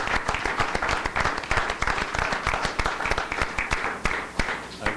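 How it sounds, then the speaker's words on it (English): Attendees at a Willmar city council meeting applaud Boy Scouts of Troop 227, a full, dense round of clapping that stays loud and continuous for several seconds in the meeting room. "I would like to applaud the Boy Scouts of Troop 227"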